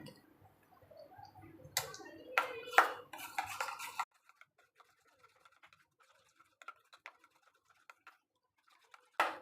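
Melted butter being mixed with other ingredients for a veg cheese sandwich, heard as a quick flurry of scraping and clicking utensil strokes in a bowl, followed by sparse faint taps and a final clatter.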